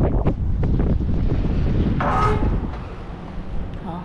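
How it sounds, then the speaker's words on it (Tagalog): Strong wind buffets the microphone in a steady, roaring rush, with gusts rising and easing throughout. "sobrang hangin talaga ngayon."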